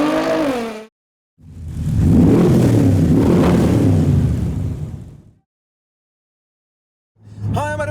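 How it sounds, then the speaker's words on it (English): Car wheels spin freely after the drive shaft breaks, giving one loud whirring, rushing surge of several seconds that swells and fades between quiet gaps. A brief bit of voice comes before it and another sound starts after. "The wheels are spinning."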